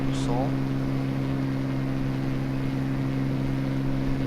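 Aircraft engines held at 95% power in Microsoft Flight Simulator, a steady loud hum with strong low tonal lines that drones evenly throughout, with a brief chirp near the start.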